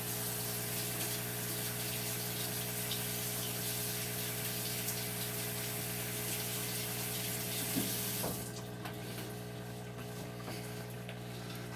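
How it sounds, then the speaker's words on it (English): A tap runs steadily with a loud rushing flow as paint brushes are rinsed, then the water cuts back near the end, leaving a quieter hum. "But first I need to go rinse off my brushes"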